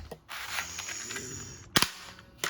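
Toy mini pistol firing: two sharp cap-gun cracks close by, about half a second apart, following a faint rattling hiss.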